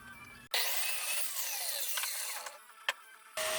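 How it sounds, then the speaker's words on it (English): A miter saw cuts through a piece of wood for a metal shelf clamp: a sudden high-pitched whining cut lasting about three seconds, followed by a brief pause, then the blade starting again; close. "I'm using the miter saw to cut the pieces of wood"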